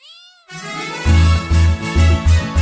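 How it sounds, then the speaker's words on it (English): A single short meow opens, followed by a steady rhythmic backing beat and melody, with the cat sound brief and up front. "C for cat."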